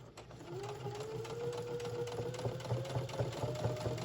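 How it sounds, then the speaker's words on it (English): A domestic sewing machine stitches along the edge of a cotton kitchen towel, giving a steady, close mechanical whir with a fast rhythmic needle chatter that runs unbroken for several seconds, with no talking. "And I'm going to sew."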